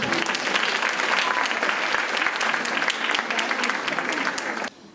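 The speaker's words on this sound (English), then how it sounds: "Let's give her another round of applause, please." Audience claps loudly and continuously after a dance performance at an arangetram, a dense, even burst of applause that fades abruptly near the end.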